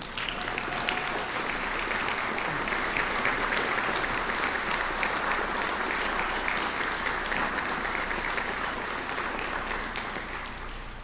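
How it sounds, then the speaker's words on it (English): Sustained audience applause at a children's hospital beam-raising ceremony, dense and steady clapping from a large crowd lasting throughout, tapering slightly at the end. "Let's have a big round of applause"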